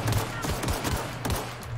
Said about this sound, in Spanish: Para ir de sigilo, no paro de pegar tiros